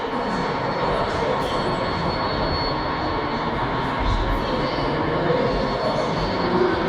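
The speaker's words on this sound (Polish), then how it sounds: "Zanim lokomotywy ruszą, muszą" ET22 electric and SU46 diesel locomotives moving off together, a continuous loud rolling rumble of heavy rail machinery that holds steady throughout with no voices.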